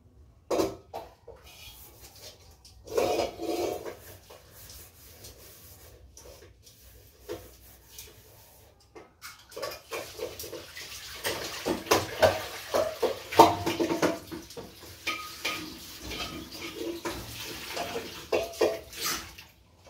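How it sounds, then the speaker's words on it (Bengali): A kadai (wok) is rinsed with water in a home kitchen: intermittent gushes of running water and splashing mix with scraping and clattering of the metal pan. The sounds come in uneven bursts over about twenty seconds, with no talking. "একটু হালকা করে জল দিয়ে ধুয়ে নিয়ে আসি।"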